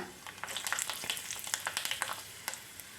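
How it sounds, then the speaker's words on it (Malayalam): Mustard seeds, fenugreek and cut dried red chillies sizzle and crackle in hot coconut oil, a dense steady frying hiss with quick popping bursts throughout, close and fairly quiet, with no talking. "വെളിച്ചെണ്ണ ചൂടായി വരുമ്പോഴേക്ക് നമുക്കൊരു കാൽ ടീസ്പൂൺ കടുക് ഇട്ട് കൊടുക്കാം ഒരല്പം ഉലുവ ചേർക്കാം മൂന്ന് വറ്റൻമുളക് മുറിച്ചത് ചേർത്ത് കൊടുക്കാം"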